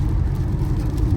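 Ford Mustang with a newly installed clutch and short-throw shifter cruising in sixth gear, its engine producing a loud, steady low rumble with road noise and no talk.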